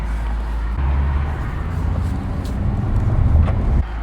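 A 2025 Mercedes-AMG CLE 53 Cabriolet cruising Miami streets with the top down, its engine a steady low drone under open-air wind and road noise, swelling slightly before easing off near the end.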